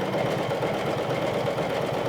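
A sewing machine runs continuously while stitching a decorative cross stitch, giving a steady, close, even mechanical hum and rapid needle chatter that never pauses.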